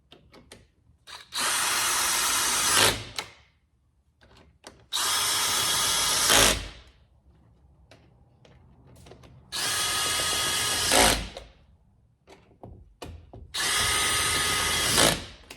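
A power tool drives bolts back into a Ford Bronco accessory mount in four loud, close bursts of whirring a second or two each, separated by quiet gaps with small clicks and handling clatter.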